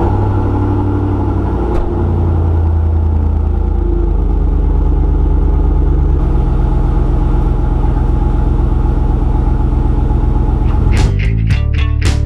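A 2004 Chevrolet Silverado truck engine runs at a steady idle in a garage, a continuous low rumble close by with no talk, broken near the end by a few sharp clanks.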